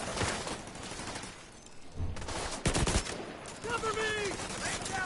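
Bursts of automatic gunfire and rapid shots in The Division 2 video game, loud and dense, broken by brief pauses, with shouted voices mixed in.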